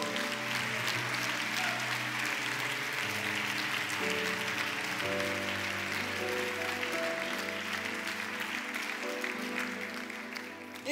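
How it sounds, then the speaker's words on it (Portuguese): A church congregation applauds steadily during a sermon, the clapping sustained and dense. Sustained organ or keyboard chords play underneath the applause throughout. "Pode aplaudir ao Senhor?"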